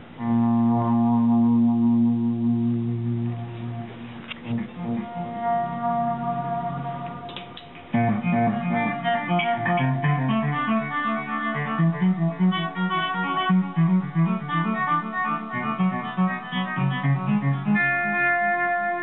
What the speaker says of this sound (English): This next one's a tape delay.